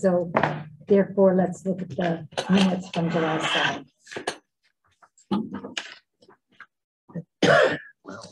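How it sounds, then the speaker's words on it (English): A single cough or throat clear breaks into a Board of Health meeting, short and close, set among stretches of a person speaking. "It's a cough"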